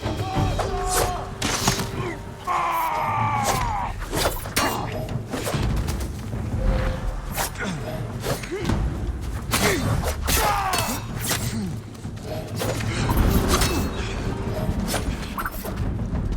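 Shoulder barge impacts in Ghost of Tsushima land as heavy thuds and crashing hits amid dense combat noise, with shouts and grunts from characters mixed in.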